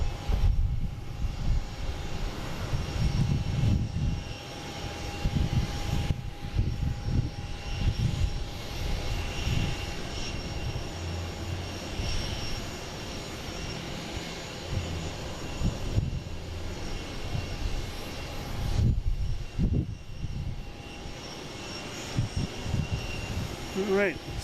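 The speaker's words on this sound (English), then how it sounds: "JetBlue coming in from Richmond. A220, flight 782." A JetBlue Airbus A220 airliner arriving from Richmond at Boston Logan makes a faint, distant jet engine rumble beneath wind and ambient noise, rising and falling unevenly without a clear close pass.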